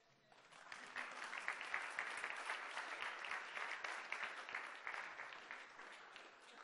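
An audience at the ZBrush Summit breaks into applause, building quickly from a few hands to a sustained, full crowd clapping that holds steady for several seconds without speech.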